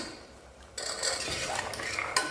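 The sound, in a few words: soaked black chickpeas added and stirred in pan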